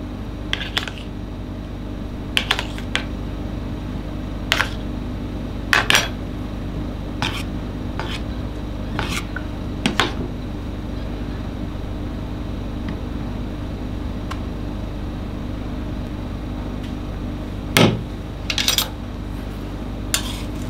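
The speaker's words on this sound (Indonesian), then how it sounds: "Sekarang kita masukkan telur puyuhnya." Quail eggs are added one after another to a mixture in a bowl. Sparse light clicks and taps come at irregular intervals over a steady background hum, and no voices are heard.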